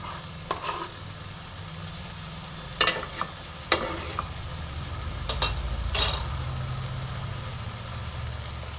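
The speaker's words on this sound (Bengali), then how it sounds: "তো আমি ফ্লেমটা একটু বাড়িয়ে দিচ্ছি আর ভালো মতন মশলাটা কষে নিচ্ছি।" Chicken curry masala fries over a raised flame in a steady sizzle, with a low rumble beneath and several sharp scrapes and clanks as a spoon stirs it close by.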